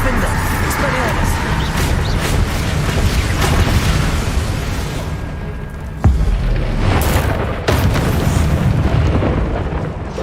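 Disarming spell blast in the Hogwarts Legacy video game, a booming explosive burst with sharp pops around six and eight seconds, layered over steady game action and rumble while a voice talks.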